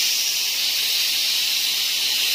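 Ginger hitting hot oil gives a steady, bright hiss of sizzling that holds evenly at close range for the whole stretch, with no voices.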